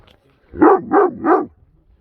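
Three quick, loud barks in a row from herd dogs guarding Merino sheep on a hillside, sharp and close against otherwise quiet surroundings.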